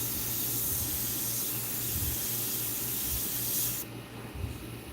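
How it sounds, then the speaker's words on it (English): Iwata CM-SB airbrush spraying Createx illustration paint onto Claybord, a steady close airy hiss that runs unbroken for nearly four seconds, then drops to a quieter, thinner spray. "So it's like transitions of spraying the same color but leaving some lights and darks."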